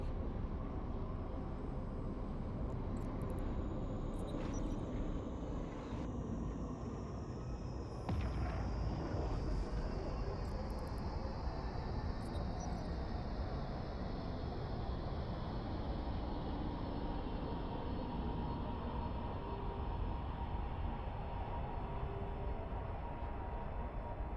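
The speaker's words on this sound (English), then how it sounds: "Warp drive active." A spaceship warp drive in EVE Online during faction warfare PvP, heard as a long, loud, steady rushing roar with a slowly falling high whine sweeping down across the whole stretch.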